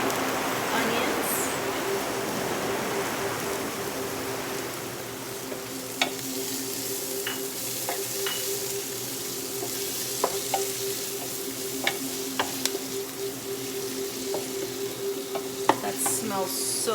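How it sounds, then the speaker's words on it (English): Onions and garlic fry in a pan for a vegan spaghetti vegetable medley, with a loud continuous sizzle and frequent scraping, clicking strokes of a utensil stirring throughout. "There's something about fried onion and garlic together that's just amazing."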